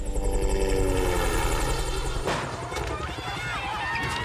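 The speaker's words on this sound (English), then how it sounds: "Helicopter." A helicopter roars close by with a fast, throbbing rotor chop, its tone shifting partway through as it seems to pass overhead.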